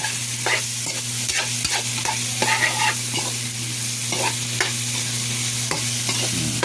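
Meat and tofu sizzle loudly in a pan while a spatula stirs them in quick scraping strokes, with a low steady hum running underneath and no voices.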